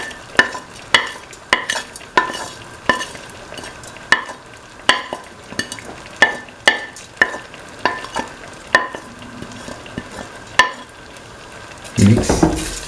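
Vermicelli pasta with mung beans and potato is stirred in a pan: steady, rhythmic scraping strokes about every half second, close and fairly loud over a faint sizzle. A louder clatter comes at the very end.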